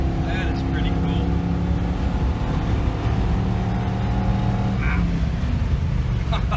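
A 20-year-old Ford F150 pickup truck drives along, its engine and exhaust giving a steady, loud, throaty rumble that continues without a break throughout.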